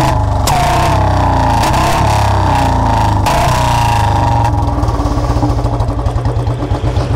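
A Royal Enfield Bullet 350 BS4 motorcycle with a C-bend exhaust idles at low rpm close by, its loud, steady thumping exhaust beat running unbroken, turning slightly rougher and more uneven toward the end.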